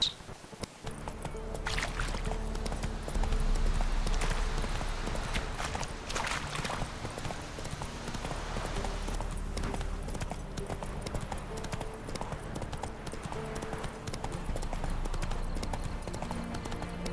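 In The Witcher 3: Wild Hunt, a horse's hooves clip-clop in a steady galloping rhythm, close and continuous, with a low rumbling ambience beneath and no voices.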